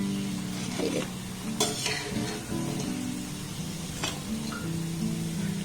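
Pakoras fry steadily in hot oil, giving a dense, continuous sizzle with occasional scraping and stirring clinks from a utensil against the pan.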